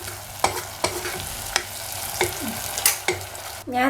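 Kerala-style garlic pickle with vinegar heats in a pan toward a boil, with a steady low sizzle and several sharp spoon scrapes and knocks from stirring at irregular intervals, close by.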